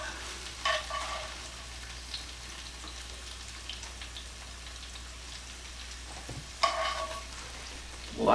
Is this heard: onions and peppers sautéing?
yes